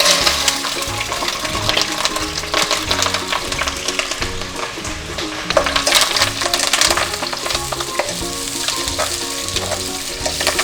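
Curry leaves and onion hit half a cup of hot oil in a pot on the stove, a loud crackling, spattering sizzle with busy stirring and popping that stays dense the whole time.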